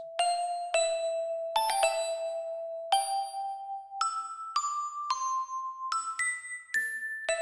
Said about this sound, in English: These are the bells.